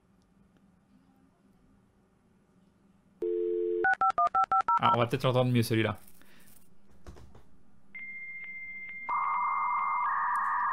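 A dial-up modem connecting to the internet: a short dial tone, then a quick run of DTMF dialing beeps, a burst of ringing and handshake chirps and screeches, and steady high carrier tones that swell louder near the end, with a voice briefly speaking early on.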